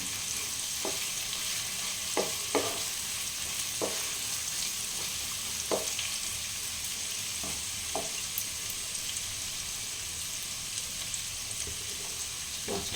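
Chickpeas sizzling in a hot pan, a constant bright frying hiss with scattered clicks and taps of stirring, close and moderately quiet.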